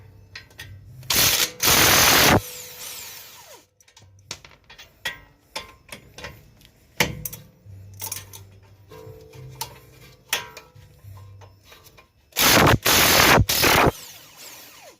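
A ratchet works loose the 22 mm strut-to-knuckle bolts on a 2011 Honda Odyssey, giving bursts of quick clicking and a few loud scraping clanks spread across the span, with no talking.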